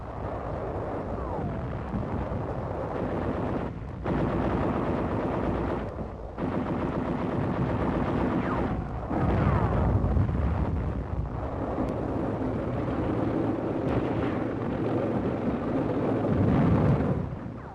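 Mortar fire, machine-gun bursts and tank guns during 1944 street fighting around the walled city of Intramuros in Manila: a loud, continuous din of gunfire and booming reports in sections separated by brief breaks, with no voices.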